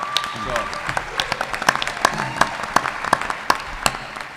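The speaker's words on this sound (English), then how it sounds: "I think Vladimir deserves a round of applause" Scattered hand claps from a small group at a mayoral debate, with a few sharp louder claps standing out over a murmur of background voices.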